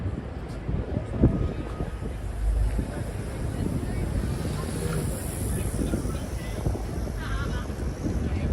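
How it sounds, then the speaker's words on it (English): Strong winter wind gusts through the wind tunnel by the 59th Street subway at Columbus Circle, New York City, a loud, continuous roar battering the microphone with low rumble throughout. "It is crazy, crazy windy."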